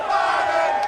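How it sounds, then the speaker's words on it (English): A large crowd chants in unison, a dense, continuous roar of many voices holding steady at close range throughout, with no single speaker standing out. "As you can hear the chants from the crowd"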